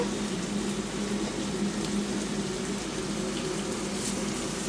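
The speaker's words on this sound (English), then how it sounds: "There goes the water." Pasta cooking water gushes steadily out of a pot into a sink as it is drained, a loud, even rushing pour with no break and no voices.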